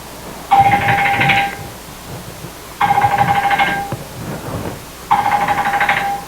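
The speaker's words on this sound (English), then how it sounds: "That's the phone." A telephone rings in three long electronic bursts separated by short pauses, loud and close, with low room noise between the rings and no talking.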